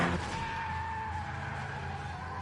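A Ford Sierra Cosworth RS500 skids with a sustained, loud tire squeal that holds a steady pitch for a couple of seconds over engine noise; no voices.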